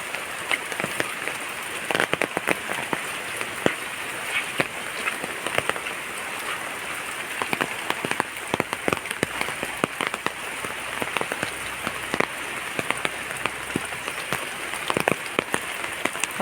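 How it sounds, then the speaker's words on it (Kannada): Steady heavy rain pours down, a dense hiss of drops drumming on surfaces with scattered louder splats, no voices. "ಸಿಕ್ಕಾಪಟ್ಟೆ ಮಳೆ ಊರಲ್ಲಿ ಎಲ್ಲ ಕಡೆಯೂ ರೆಡ್ ಅಲರ್ಟ್ ಕೊಟ್ಬಿಟ್ಟಿದ್ದಾರೆ"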